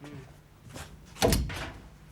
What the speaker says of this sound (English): would you like to come in and shut the door?